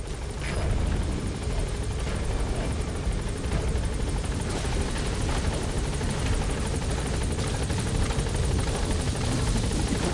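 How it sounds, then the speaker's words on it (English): Helicopter in Metal Gear Solid V: The Phantom Pain touching down and lifting off again, a loud, continuous rotor thrum and engine roar filling the whole stretch without a break. "All right, the chopper's touching down."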